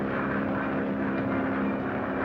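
A steady, loud propeller airplane engine droning in flight aboard a classic comedy film aircraft, a continuous rumbling hum with no breaks and no speech over it.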